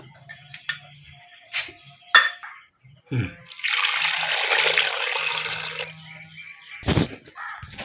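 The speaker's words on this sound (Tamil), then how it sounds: "ஒரு லிட்ரு போல் தண்ணி ஊற்றிக்கோங்க" Water poured into a cooking pot with salt and a little turmeric, readied for boiling palmyra sprouts: a steady rushing splash of about two seconds, close and fairly loud, set among a few scattered knocks and clatters.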